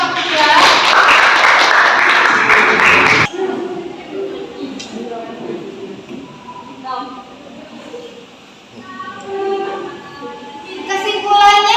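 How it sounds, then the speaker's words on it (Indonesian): A classroom breaks into a loud burst of clapping for a presenting student group during a chemistry lesson, lasting about three seconds before it cuts off and a teacher's voice takes over. "Beri tepuk tangan untuk kelompok 3"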